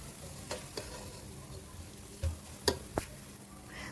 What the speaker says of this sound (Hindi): यहाँ मैं प्याज फ्राई कर रही हूँ।